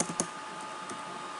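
A few quick, light computer keyboard taps come close together at the start of typing a short string, then one more tap follows over a faint room hum.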